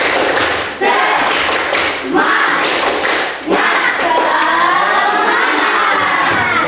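A classroom of Indonesian schoolchildren performs a loud rhythmic clapping chant, with close, energetic hand claps and thumps mixed with shouted voices in bursts across several seconds.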